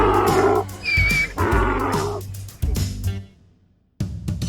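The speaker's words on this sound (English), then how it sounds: "Donkey." A donkey brays loudly in repeated harsh, rhythmic heaving bursts over about three seconds, close and alone, then breaks off into a short pause before another burst begins.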